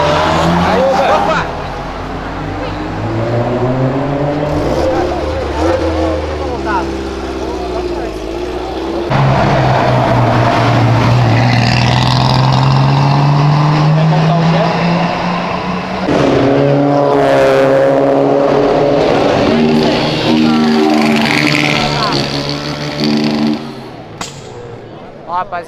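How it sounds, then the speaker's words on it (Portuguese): A Chevrolet Opala cruises past while another car revs hard and accelerates, its engine note climbing and falling in loud, close sweeps, with people talking over the noise. "Passou o Opala desfilando e outro carro acelerando."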